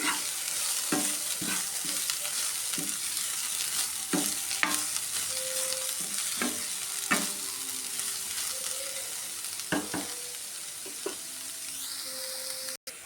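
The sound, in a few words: stirring beetroot thoran frying in a pan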